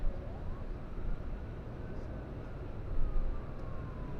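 Fire truck sirens wail at a distance outdoors near a smoky fire scene, faint rising and falling tones over heavy wind noise and rumble.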